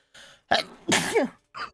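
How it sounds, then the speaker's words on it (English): A single person's sneeze coming in short bursts: a small intake, a sharp gasping build, then the loud explosive burst and a brief trailing puff, close and clear with silence between. "I'm gonna sneeze."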